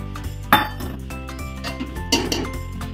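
A metal pan with butter in it clinks and scrapes on a stove, with two sharper clanks standing out over steady low kitchen clatter.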